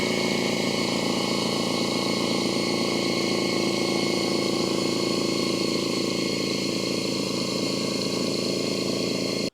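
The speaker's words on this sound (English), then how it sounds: "even with that big air compressor, which a lot of construction people use on job sites and stuff" A large construction-site air compressor runs off a Jackery HomePower 3600 Plus power station, a loud, continuous motor drone with a steady hum that holds unchanged throughout.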